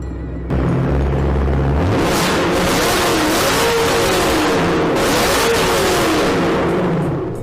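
BMW E92 M3 V8 with its muffler and resonator deleted revs hard and loud, a deep rumble climbing and falling in pitch for several seconds after a short idle, close by with no talk.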